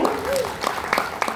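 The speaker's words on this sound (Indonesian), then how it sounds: "Boleh kita berikan tepuk tangan yang meriah?" Audience applause at the Aquafit Event 2025 held by PT Matahari Sakti, a short burst of dense clapping heard under a speaking voice that carries across it.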